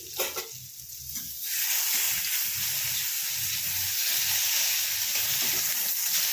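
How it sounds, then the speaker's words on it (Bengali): Eggplant slices frying in hot oil, a loud continuous sizzle that swells after a few quieter opening seconds and stays steady and close. "এবার যেরকমভাবে বেগুন ভাজা হয় সেরকমভাবে প্রথমে বেগুনটাকে ভেজে নেব"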